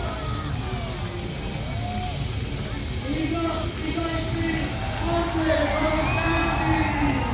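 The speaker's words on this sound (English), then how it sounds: "Getting a big round of applause from the crowd." Crowd cheering and whooping at a BMX freestyle park World Cup semi-final, a sustained roar of shouts and yells from a large audience at a distance, swelling toward the end.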